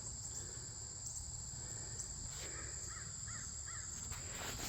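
A crow caws three times in quick succession from some distance, faint over a steady background of insect hum and outdoor ambience beside an old fence on a country walk.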